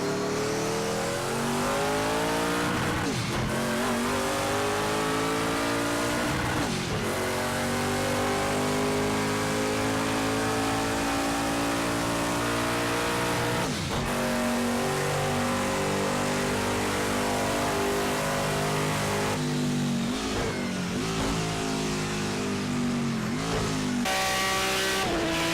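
A race car in the video game Project Cars 2 revs hard and climbs through the gears, the engine note repeatedly rising to a loud scream, dropping at each shift, and climbing again, close and continuous with no talk.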